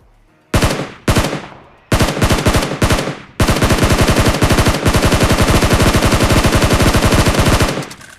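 SCAR-L assault rifle firing in a mobile battle-royale shooter, a loud, close series of short bursts followed by a long rapid sustained volley that cuts off abruptly.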